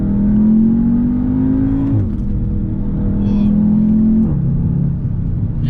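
A turbocharged Audi TTS accelerating, heard from inside as a steady, loud engine drone rising in pitch through two gear changes, with a dip and climb at each shift.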